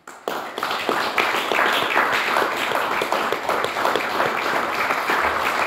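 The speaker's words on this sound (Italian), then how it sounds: "se vi alzate vi facciamo anche un applauso" Audience applause for the illustrators at the opening of the Borgolibri 2022 literature festival starts abruptly after a brief silence, then continues as a full, steady clapping from a sizable crowd.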